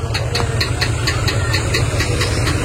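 A tractor idles at a house-site where soil is being dumped, its engine chugging in a steady low rumble with regular ticking knocks, close and continuous.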